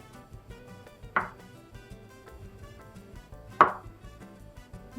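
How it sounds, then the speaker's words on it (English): Knife chopping tofu on a cutting board, two distinct sharp chops spaced a few seconds apart over a quiet background, no talking. "slice it like this, and cut it lengthwise, like so, and then chop"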